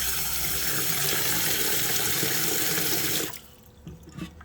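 Sea moss gets a final rinse under steadily running tap water, a loud, even gush that stops abruptly, leaving a few soft splashes and drips.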